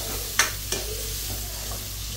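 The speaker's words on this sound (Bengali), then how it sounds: "এখন আমি মাথাটা দিয়ে দিলাম, মাথাগুলা তেলের ভিতরে দিয়ে দিলাম।" Fish heads sizzle steadily in a pan of plenty of hot oil, close and loud, with a couple of sharp scrapes and knocks from a spatula as they are stirred.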